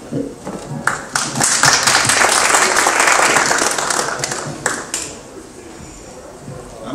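An audience at an NGO event on drug violence in Latin America gives a round of applause, scattered claps swelling into steady clapping for a few seconds before tapering off, with some talk underneath.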